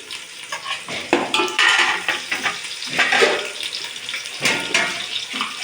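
Green chillies drop into a frying pan and sizzle, with a loud, close hiss and bursts of crackling mixed with clattering pan and utensil sounds.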